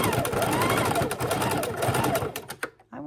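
A sewing machine stitches a fabric serving bowl cover in a steady, fast, close mechanical whir, then slows and stops with a few last clunks as the needle is set down to pivot.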